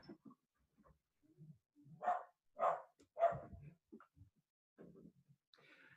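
A house dog barks and yips several times in a quiet room, with three strong barks in the middle and softer whimpering yips around them, heard alone without talk.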